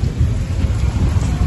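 Steady, dense rain pours continuously, close and fairly loud, with a broad low rumble beneath that may be thunder or wind, filling the whole stretch without talk.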